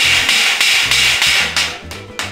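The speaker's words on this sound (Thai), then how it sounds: "ผมก็จะปุ๊กใส่ไปอย่างนี้นะแล้วก็เอาค้อนตอกไปครับ" Several sharp hammer taps in quick bursts, close and fairly loud, driving a wall anchor into a lightweight partition wall, with short pauses between groups of strikes.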